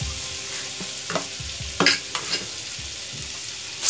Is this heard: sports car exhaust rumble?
no